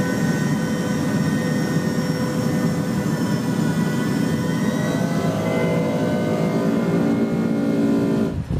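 A large airtanker airplane's engines give a steady, loud droning roar with sustained tonal hum throughout, unbroken and without voices, ending with a brief rustle.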